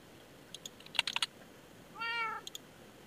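A Minecraft cat meows once, a clear, fairly close mew in an Enigmatica 2 modpack world, preceded by a quick flurry of soft keyboard-like clicks and a couple of light taps afterward.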